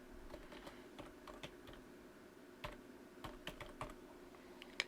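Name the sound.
typing an email address on a computer keyboard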